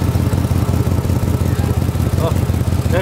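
A rig's engine idles steadily while warming up, a continuous low rumbling drone held close and loud throughout, with no talk over it.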